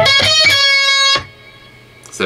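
Electric guitar playing a lead lick: sustained, harmonically rich notes with repeated bends and a pull-off, loud and close, ending abruptly with a brief quiet tail and no talking.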